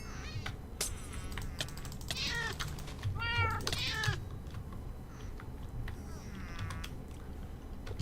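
Repeated meows from a Minecraft cat in the GregTech New Horizons modpack, several drawn-out calls in a row against a steady background hum with occasional clicks.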